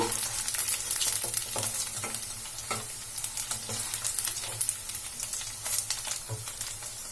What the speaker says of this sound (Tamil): எண்ணெயில நல்லா பொரிஞ்சிருச்சு.